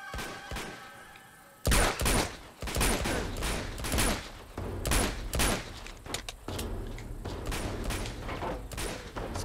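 Pistol fire during a jungle firefight in the game Uncharted 2, loud sharp shots in irregular bursts, some close together, with gaps and background rumble between them.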